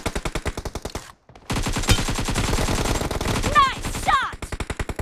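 Rapid automatic gunfire from a BGMI team deathmatch, loud bursts of repeated shots with a brief pause, then sustained firing and several sharp ricochet-like whistles near the end.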